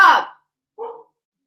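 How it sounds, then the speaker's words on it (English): A dog barks indoors, two short separate barks: a louder first one, then a softer second after a brief pause. "my dog is barking"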